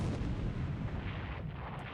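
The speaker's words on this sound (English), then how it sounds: "Prince of Wales, stop firing your main guns on the Kashima." Heavy naval gunfire from the Prince of Wales's 14-inch main guns in the War in the Pacific game, a dense, continuous rumbling roar of artillery sustained throughout.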